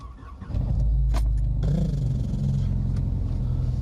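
A Skoda car engine cranks and fires, then settles into a steady, loud, close idle rumble with a brief rev partway through.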